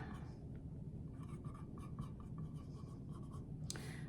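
A pen writes a label on a jar with faint scratchy strokes in short bursts, quiet beneath a steady low room rumble, with a brief louder rustle near the end.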